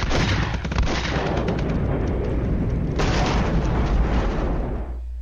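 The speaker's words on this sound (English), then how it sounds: "Still dropping the heavy artillery." 80mm mortar and heavy artillery explosions in a wargame strategy game make a dense, continuous roar of blasts and gunfire, with a fresh surge of impacts midway before it tails off.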